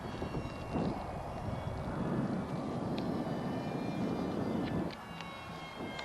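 A model airplane at a flying club field, its engine droning steadily at takeoff with wind buffeting the microphone, the whine easing toward the end as the plane moves off.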